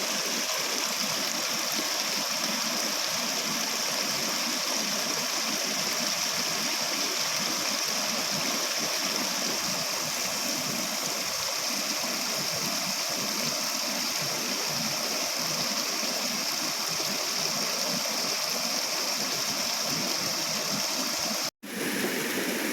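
Water flows steadily and evenly at a fishing spot, a continuous rushing wash that stays level throughout, with one brief dropout near the end.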